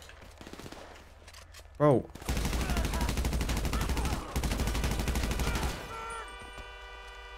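Gunfire in GTA Online: a sharp blast, then a sustained burst of rapid automatic fire that runs loud and steady for several seconds before cutting off, with a player voice over it.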